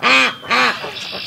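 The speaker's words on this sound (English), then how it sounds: "She was over on the other side quacking her face off." Two loud, nasal duck quacks close by, followed by a fainter trailing call.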